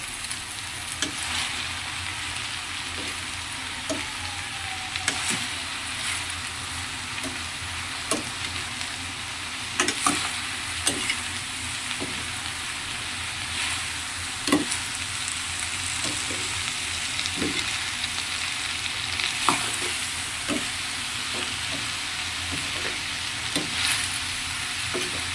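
Bottle gourd frying in a pan while being stirred slowly, a steady close sizzle punctuated by repeated sharp spatula taps and scrapes at irregular intervals, with no one talking.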